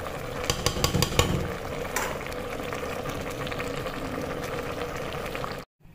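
Moong dal mixture for hara bhara kabab steams in a covered pot, giving a steady close hiss with soft bubbling that runs evenly and then cuts off abruptly near the end.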